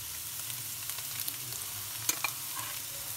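Rice stir-fried in a pan with soy sauce and egg for Chinese-style fried rice (chaufa), heard as a soft, steady sizzle with light scraping stirs and a couple of brief clinks.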